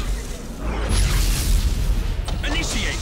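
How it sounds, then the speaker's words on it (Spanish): The Nova cannon fires in the space strategy game Battlefleet Gothic: Armada, a deep booming blast swelling for about a second and trailing off, with voices talking over the battle. "Disparando cañón Nova."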